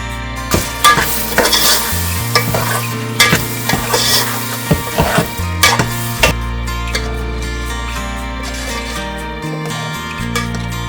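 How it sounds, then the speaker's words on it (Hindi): Chicken with yogurt, biryani masala, tomatoes and ginger-garlic paste fries in a pan. A utensil scrapes and stirs in repeated close strokes over a steady sizzle, then the stirring eases and the frying hum carries on alone. "बस अब इन तमाम चीज़ों को मैं इतनी देर भूनूंगी, 8 से 10 मिनट भूनना है कि ये एक जान हो जाए।"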